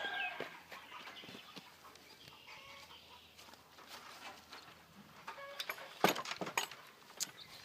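Homestead chickens clucking in a coop, faint and somewhat distant, with scattered soft clucks and scratching over a low background and a brief busier flurry near the end, no talking heard.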